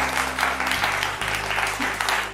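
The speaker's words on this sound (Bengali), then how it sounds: "একটা জোরে হাততালি হয়ে যাক মা এবং মেয়ের জন্য।" Game show studio audience applauding a mother and daughter during a Dhanteras special, a brisk burst of clapping over a low steady background tone, with no talk.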